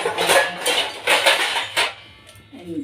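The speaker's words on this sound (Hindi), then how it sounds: "तो अब ये रख देती हूँ मैं कुकर अपना" Dishes and pots clatter in a home kitchen as a pressure cooker fitted with its whistle is set down, with several sharp bursts of clanking metal close by and a softer knock near the end.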